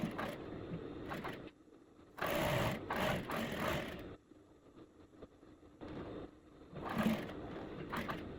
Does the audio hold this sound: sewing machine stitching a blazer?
yes